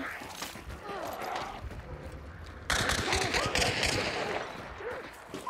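Gunfire in a multiplayer shooter video game, dense bursts of shots crackling over a steady bed of game noise, growing louder partway through, with players talking over it.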